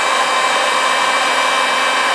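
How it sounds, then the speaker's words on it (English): A heat gun blows hot air onto a Smith & Wesson Model 10 revolver during refinishing, producing a loud, steady whirring hiss of fan and airflow that holds constant without pause and is heard alone. "You can get one of these heat guns on Amazon for like 15 bucks, by the way."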